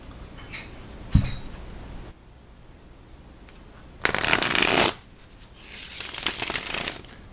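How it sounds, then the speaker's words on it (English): A close bridge shuffle of tarot cards: a tap, then two separate riffling bursts with a pause between, crisp and fairly quiet. "Let's see, bridge shuffle."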